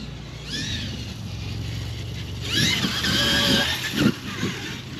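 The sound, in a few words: Primal RC dual motor RC car driving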